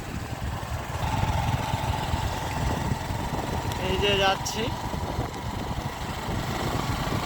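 A motorbike ridden at an easy pace along an empty road, its steady engine and wind rumble running continuously beneath someone talking throughout.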